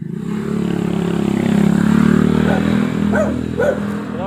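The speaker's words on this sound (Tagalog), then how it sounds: "Galit talaga galit yung aso." A dog barks and growls aggressively over a loud, steady engine rumble, with a few sharper yelps near the end.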